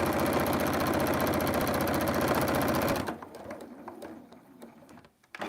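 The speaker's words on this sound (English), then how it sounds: "So I'll sew it for a little bit and then check" Sewing machine running steadily while stitching fabric for a quilt-as-you-go zipper pouch made from Christmas fabric scraps, a fast loud continuous whirr for about three seconds, then stopping, leaving faint handling clicks and rustles.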